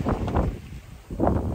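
Wind buffeting a microphone aboard a solo sailboat in the North Atlantic in a westerly breeze, gusty rumbling surges with a brief lull in the middle.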